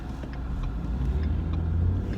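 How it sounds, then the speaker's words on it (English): A car rumbles past nearby, its low engine drone steady and full for a couple of seconds with no talking. "I gotta watch to see if a car coming, y'all."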